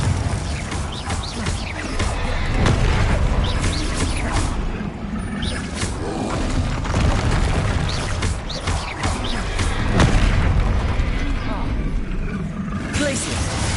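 Confringo and Bombarda spell blasts in Hogwarts Legacy, a run of booming explosions and crashing impacts over a dense, loud game soundscape, with a voice speaking over it.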